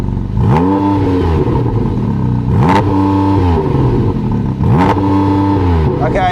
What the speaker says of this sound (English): Go on, start the engine. Give it some revs.